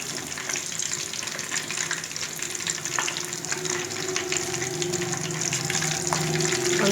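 Spicy chicken drumsticks frying in hot oil, a steady close sizzle and bubbling hiss that swells slightly louder toward the end, with faint clinks and no speech.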